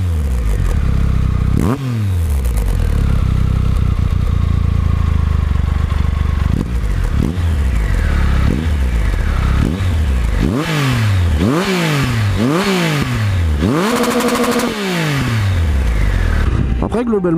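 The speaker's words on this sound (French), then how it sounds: "Vous avez un petit peu moins le sifflement caractéristique de Triumph" A Triumph Tiger 1200 XCA engine revs and pulls through repeated gear changes, rising and falling, while the bike is ridden in the rain. Wind noise stays loud throughout, and the rider talks over it.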